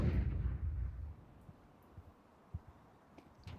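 An HE grenade detonates in a Counter-Strike match with a heavy low boom that decays over about a second, followed by scattered faint thuds and taps.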